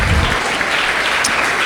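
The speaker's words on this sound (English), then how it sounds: "let's give a huge round of applause to Wyckoff Gardens and for everybody's participation" Audience at a community meeting breaks into applause, a dense steady wash of clapping that carries evenly through the short moment, fairly loud and close, with no one speaking over it.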